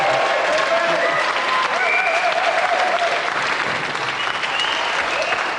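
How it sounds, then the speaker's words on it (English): A studio audience on a game show claps and cheers in a loud, dense wash of applause that holds steady throughout. "if we just like to give a round of applause again for our loser, Sahid, and our winner, Annabel Croft."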